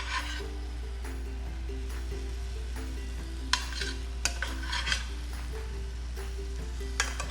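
Carbonara pasta and kale being tossed together in a hot pan with tongs, giving a steady soft stirring and sizzling texture with a few sharp clinks of metal against the pan, over a constant low hum.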